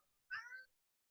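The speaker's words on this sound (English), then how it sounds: "Oh, man, you are such a cute cat." A cat lets out a single short meow, faint and close, with silence around it.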